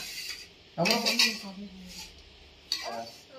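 Spoon scraping and clinking against a dish while biryani is mixed at home, a few short bursts of metallic scraping at close range, with a voice and background chatter around it.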